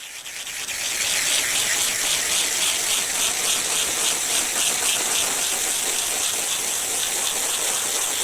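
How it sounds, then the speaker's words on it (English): Water spraying steadily onto a junk car being rinsed of dirt, a continuous rushing hiss that starts softly and holds loud and close throughout. "One last final rinse. Try to run the rest of that dirt down to the bottom corner,"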